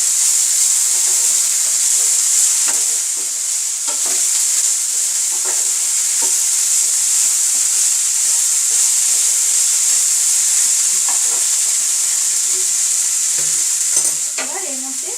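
Radish greens cook in a covered pan, giving a steady, loud frying sizzle and hiss that carries on throughout, with occasional stirring scrapes and soft clinks near the end.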